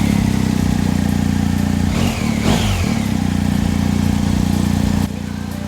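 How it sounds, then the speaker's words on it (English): A BMW R1250 GS motorcycle engine running after ignition, a steady close low idle thrum that briefly shifts in pitch before settling and dropping slightly in level near the end. "push the ignition button. And ignition is on, and then start your bike."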